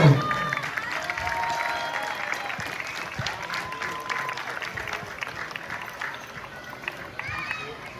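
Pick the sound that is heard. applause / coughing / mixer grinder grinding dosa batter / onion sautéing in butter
applause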